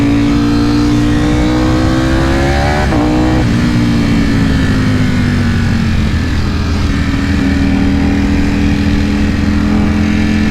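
A 2020 Ducati Panigale V4R fitted with an Akrapovic race exhaust roars loud and close while riding, its engine note climbing and dropping with gear changes in a constant, harsh drone.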